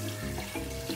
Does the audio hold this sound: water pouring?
yes